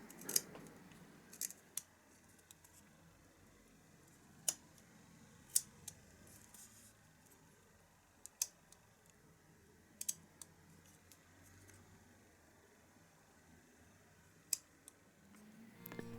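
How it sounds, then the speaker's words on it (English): A knife slices the corners off carved wooden goldfinch feathers in quiet, sharp, crisp clicks and snips, spaced irregularly over a faint hiss. "for the bottom feathers, you can just slice off the corners"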